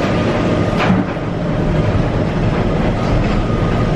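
Loud, steady rumble of a monorail car on the Jacksonville Skyway riding along its track, with occasional clunks as it passes over joints or track switches.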